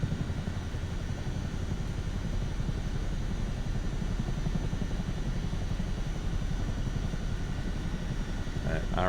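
A Chinook helicopter flying near RAF Odiham in Microsoft Flight Simulator 2024, its rotors making a steady, continuous droning thrum with an even, unbroken level throughout.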